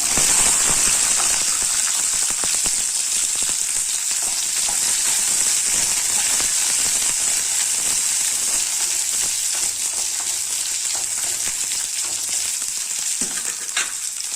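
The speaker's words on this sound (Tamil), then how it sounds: "சின்ன வெங்காயம் கொஞ்சமாக கட் பண்ணி வச்சுருக்கேன் அதை உள்ளே போட்டுக்கலாம்" Chopped small shallots sizzle and fry steadily in hot oil in a pan for an eggplant curry, a dense continuous crackle with occasional stirring, close and loud with no talking.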